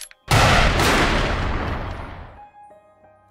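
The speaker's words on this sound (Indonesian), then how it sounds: "lalu Ryo menembakkan pistol beberapa kali." Gunfire from a pistol in an action film: a loud burst starting abruptly and decaying over about two seconds, shots blurring together into a single rolling boom with no voices.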